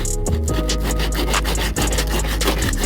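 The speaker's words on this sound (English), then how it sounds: "I'm just pretty much getting this paint off" Steady abrasive rubbing as paint is scraped off a car trim part, a continuous rasping scrub with rhythmic strokes, close and fairly loud with no talking.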